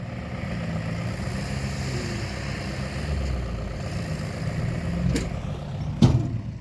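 A New Holland TD95D tractor engine runs steadily at low revs with a deep continuous rumble, close by, with a couple of sharp knocks near the end.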